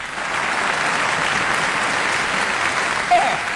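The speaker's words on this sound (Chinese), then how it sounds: "我们掌声欢迎" An audience at a Suzhou Pingtan televised awards gala applauds to welcome the performers, a steady, even roar of clapping from a large crowd throughout, with a brief faint note near the end.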